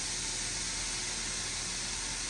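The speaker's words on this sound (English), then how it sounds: "we're gonna put that in there, and it's starting to" Chopped Italian slider meat sizzling in a hot skillet, a steady, even hiss that holds without a break for a couple of seconds.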